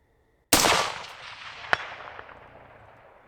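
A rifle fired at night toward targets out to 500 yards: one sharp, loud gunshot cracks and booms, followed by a lingering rumble that decays slowly, with a faint distant impact a moment later.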